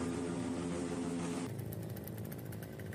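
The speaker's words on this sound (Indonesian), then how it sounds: "merekam aksi kawanan geng motor yang sedang menggelar konvoi di jalan raya sambil membisingkan knalpot" Loud motorcycle engines from a gang convoy on a highway, a harsh buzzing drone that shifts midway into rapid rasping exhaust pulses, sustained and close.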